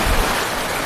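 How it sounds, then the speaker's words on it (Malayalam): Heavy rain pours down steadily outdoors in misty weather, a dense, loud, unbroken hiss of drops with no voices. "നല്ല മഴയാ, മഞ്ഞൊക്കെ കയറി വരുന്നുണ്ട്."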